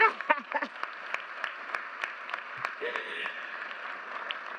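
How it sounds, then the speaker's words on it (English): Scattered audience clapping during a commencement speech, light and uneven with individual claps standing out, while a speaker's voice continues over it. "okay, we can clap for"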